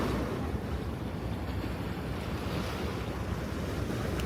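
River water splashing and lapping along the East River in New York, a steady broadband wash with gusts of wind noise on the microphone, continuous and fairly close, no voices.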